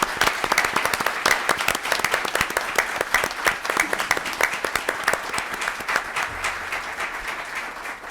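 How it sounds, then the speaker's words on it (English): An audience at a Chicago Public Schools Board of Education meeting applauds, a full, even clatter of many hands clapping that holds steady and eases slightly toward the end. "join me in a round of applause for these leaders and these teachers who do excellent work."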